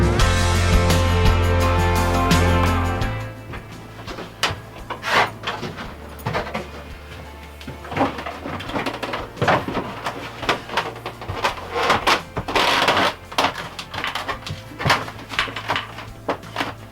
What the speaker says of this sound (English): I'm just going to do that with a bunch of screws